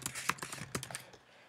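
Quick keystrokes on a computer keyboard as text is typed into a layer in After Effects, a close, irregular run of light clicks with no talking.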